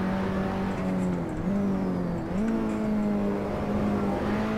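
A race car engine in the Assetto Corsa video game drones steadily while cornering, the pitch dipping and climbing as the driver lifts and reapplies throttle, close and continuous with faint tire noise.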